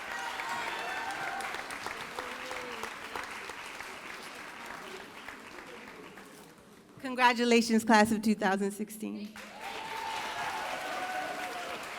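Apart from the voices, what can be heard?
graduation audience applause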